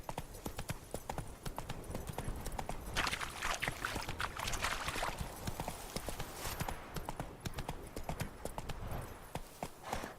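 Horse hooves pound along in The Witcher 3 video game, a fast, continuous clip-clop of hoofbeats held at an even rhythm, fairly close and uninterrupted.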